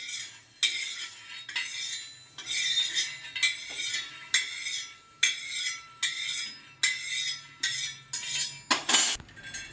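Coriander seeds and coconut dry-roasting in a pan, stirred in a regular rhythm of close, bright scraping strokes, about a dozen of them, ending in a quicker flurry.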